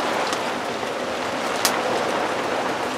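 Rain pours steadily outside by a back step, a constant broad patter with one brief louder splash near the middle and nobody speaking.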